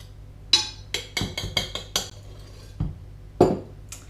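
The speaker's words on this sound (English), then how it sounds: "So all we're doing is scraping each of the spoons" Metal spoons clink and scrape against each other while shaping meringue mixture, a run of about eight sharp, close taps and scrapes spaced unevenly, with one louder knock near the end.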